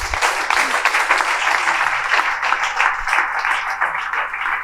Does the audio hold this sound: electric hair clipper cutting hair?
no